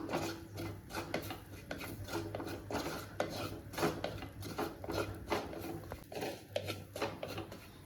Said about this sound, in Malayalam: വീണ്ടും നന്നായിട്ടൊന്ന് ഇളക്കി കൊടുക്കാം